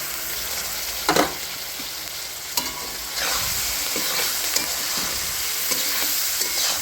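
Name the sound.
boiled chana dal added to a pan, sizzling while stirred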